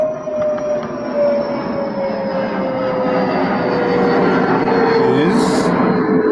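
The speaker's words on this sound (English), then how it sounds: "there is an aeroplane making a lot of noise" An aeroplane passes overhead, its loud, steady engine roar filling the whole stretch with a slowly falling whine, close and continuous, with no talk.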